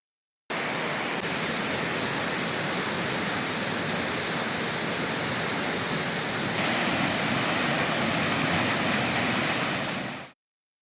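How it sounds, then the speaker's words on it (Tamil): Courtallam waterfalls in flood after rain roar with a dense, continuous rush of falling water, loud and unbroken for about ten seconds with no voices. "குற்றால அருவிகளில் வெள்ளப்பெருக்கு ஏற்பட்டுள்ளது"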